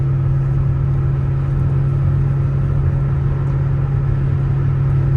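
A 1987 Toyota MR2 on the road with a steady, loud engine drone and low road rumble running continuously from inside the cabin, with no speech.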